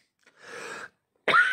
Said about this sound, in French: Quand la cigarette est mal faite, je tousse.